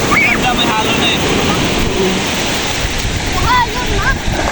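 Surf rolls steadily onto a rocky beach at a seaside resort, a dense wash of breaking waves buffeted by wind on the microphone, with children and adults calling out now and then over the roar.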